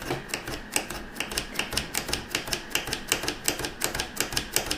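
A handheld fringing tool slicing paper into uniform strips for quilling makes rapid, regular crisp clicks, about three or four per second, close and clear with no talking.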